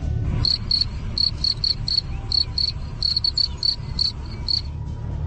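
High, shrill cricket chirps repeat in steady short pulses over a low rumbling background, close and distinct, with no one speaking.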